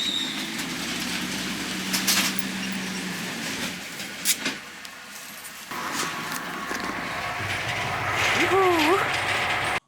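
Mechanical rattling and clanking of a moving tram in Irkutsk, steady and fairly loud, heard from aboard, with metallic squeals and a rising whine near the end.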